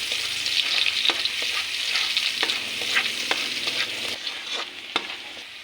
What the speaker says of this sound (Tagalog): Siyempre meron tayong ito na po ang bawang para igisa natin.